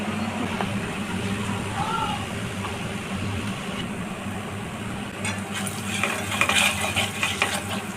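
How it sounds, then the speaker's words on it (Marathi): Poha and rava cutlets frying in a hot pan give a steady, soft sizzling hiss. Near the end, a spatula scrapes and clinks as the pieces are turned. "ते बघा आता फक्त याला आपण फ्राय करायचे."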